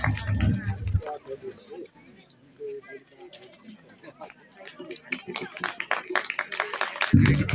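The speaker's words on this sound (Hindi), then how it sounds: "तालियों में कमी ना आना पाए।" Audience clapping at an outdoor Independence Day (15 August) function in Yangthang, Hangrang tehsil, Kinnaur, with bursts of claps at the start and building again toward the end, with crowd noise and some talk between.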